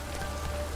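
Steady rain pours down in Witcher 3: Wild Hunt, a dense, even hiss of falling water that holds at the same level throughout, with no voices over it.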